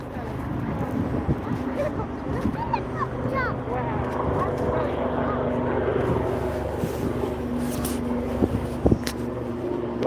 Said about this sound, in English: Got that helicopter flying above us again.